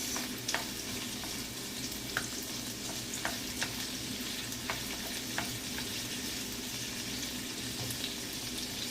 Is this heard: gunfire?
no